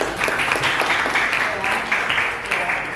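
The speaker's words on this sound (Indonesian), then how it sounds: "Tepuk tangan." A classroom of students claps after a presentation, with a steady round of applause from a modest group lasting a few seconds and some talking mixed in.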